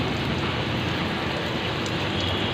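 Steady rainfall pours outside, a constant dense hiss with no pauses, fairly close and moderately loud.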